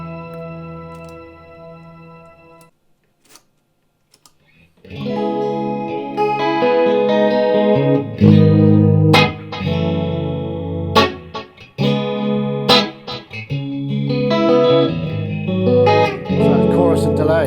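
An electric guitar runs through an Eventide H9 Harmonizer set to chorus and delay, with sustained shimmering chords and plucked notes ringing out after a brief pause, their repeats and wash trailing loudly over the phrases.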